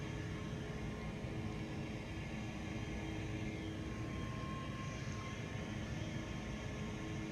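Airbus A320neo engines in the X-Plane 12 flight simulator give a steady, even cabin drone with a broad low rumble and a faint high whine, continuous and unchanging throughout.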